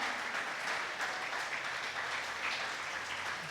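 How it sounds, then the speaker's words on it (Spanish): Church congregation applause during a Spanish-language service, a steady, dense wash of many hands clapping that fills the room without break and with no voices over it. "dele fuerte ese aplauso al Señor."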